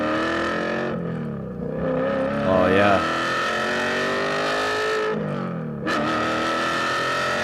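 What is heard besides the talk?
exotic car with 6-speed manual transmission revving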